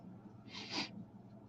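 A single quick sniff through the nose, close and soft, against a quiet room background.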